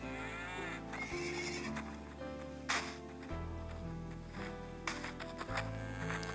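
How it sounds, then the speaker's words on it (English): A game horse in SurvivalCraft neighs and whinnies through several seconds. Moderately loud tonal calls shift pitch in blocks, with a few sharp clicks and knocks scattered between them and no voices. "Yes, y'all, I have a blind horse."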